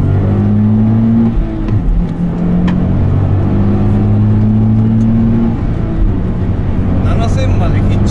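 A new Nissan Fairlady Z base model engine revs hard to 7000 rpm and climbs in pitch until the limiter, a loud rising drone with shifting harmonics, heard from inside the car.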